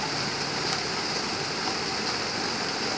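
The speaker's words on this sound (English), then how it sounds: "We are getting slammed with rain." Heavy rain from the outer bands of a storm on Florida's Space Coast pours in a steady, dense, loud hiss with no breaks and no voices.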